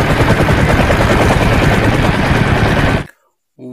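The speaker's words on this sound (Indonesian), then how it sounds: "Ini helikopter." A toy helicopter gives a loud, buzzy mechanical whirring with rapid rattling pulses for about three seconds, then cuts off abruptly into silence before a brief noise at the end.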